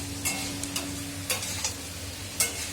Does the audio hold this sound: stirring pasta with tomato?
yes